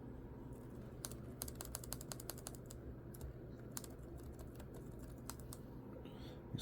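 Typing on the repaired keyboard of an HP Pavilion DV5 laptop, a quick irregular run of light key clicks, close and faint over a steady background hum, with no talking.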